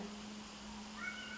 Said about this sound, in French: Ça c'est le chat qui miaule